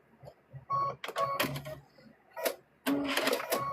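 A sewing machine back stitches a seam on a fabric stuffed bear in short stop-start bursts of close mechanical clatter, separated by quiet gaps.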